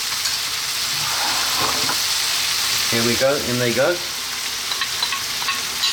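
Blended tomatoes go into a hot pan of goat curry, raising a steady loud sizzle and frying hiss with stirring scrapes, while someone speaks briefly over it.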